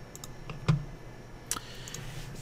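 A few sparse computer mouse clicks in a quiet room, one sharper close click followed later by a fainter tick.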